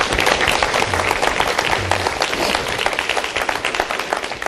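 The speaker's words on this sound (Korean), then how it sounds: "그래서 우리 박수로 축하 한번 해드리죠" Students at a university CEO lecture applaud to congratulate a newspaper on its 51st anniversary, dense continuous clapping, fairly loud and even throughout.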